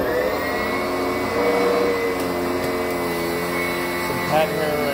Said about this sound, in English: I'm here with the Sanitaire 886E upright commercial bag vacuum